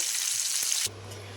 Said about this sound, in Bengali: এখানে মাছ ভাজা দিয়ে দিয়েছি